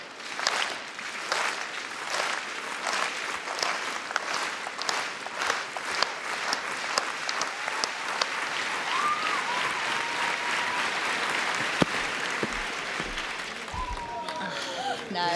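A stadium crowd claps in a steady rhythm at an athletics meet in Glasgow, urging on a Jamaican long jumper, the beat dissolving into broad applause and cheering while commentators talk.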